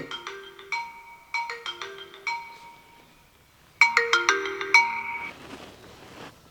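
A phone ringtone plays in bright repeating electronic bursts: a short run of chiming notes, a pause, then a louder, denser repeat, heard alone and fairly close in a village setting.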